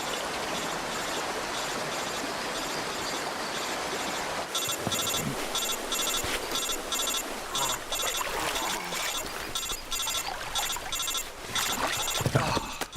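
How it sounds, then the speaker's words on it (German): An in-game telephone rings in a jungle stealth action game, a repeating electronic trill that starts partway through and recurs in rapid bursts over a constant rushing wash of rain or flowing water. "Geh mal ans Telefon, Mann."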